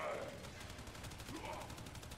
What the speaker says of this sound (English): I'm just, you know, shooting through these enemies